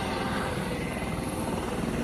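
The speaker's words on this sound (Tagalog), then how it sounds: "Pinaglalanding na helicopter." A helicopter landing near a parking area in Dubai gives a loud, continuous rotor and engine roar that stays close and steady the whole time.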